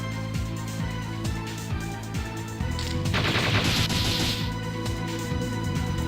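A rapid, loud burst of bullet seed attack effects from The Legend of Dragoon, a dense stream of sharp pops over game music, with no talk.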